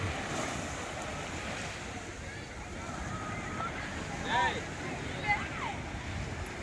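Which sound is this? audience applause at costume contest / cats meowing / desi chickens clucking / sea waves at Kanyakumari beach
sea waves at Kanyakumari beach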